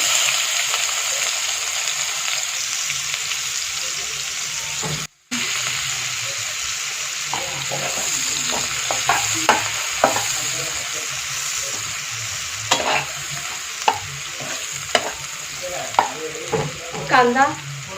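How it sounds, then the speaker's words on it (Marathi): Cumin seeds and finely chopped onion sizzle in the oil left from frying paneer, a steady hiss with scattered clinks of a spoon stirring the pan. "आता पनीर तळलेल्या तेलामध्येच आपण जिरे टाकणार आहोत, बारीक चिरलेला कांदा टाकणार आहे"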